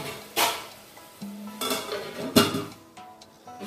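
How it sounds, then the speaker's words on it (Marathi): A lid is set on a cooking pot with a few close metallic clatters and clinks, one sharp knock standing out, over a soft background hiss with no talking. "याच्यावरती आपण झाकण ठेवून घेऊया, म्हणजे तो छान मऊ शिजेल।"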